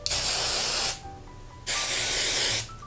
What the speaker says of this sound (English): I spray like my whole head.